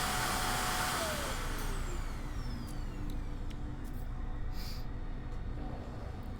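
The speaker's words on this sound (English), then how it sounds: "Oh my gosh, the stupid vacuum." A vacuum cleaner runs steadily with a continuous whooshing drone, with faint pitch sweeps along the way and no speech.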